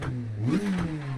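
Car engine in the rally game WRC Generations, revved with the clutch held in and first gear selected: a steady mid-pitched drone that swells into a brief rising rev and settles back, close and clear, with no talking.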